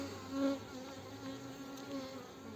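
Steady, close buzzing of honeybees at a nucleus hive hums throughout, swelling slightly at moments with no talking.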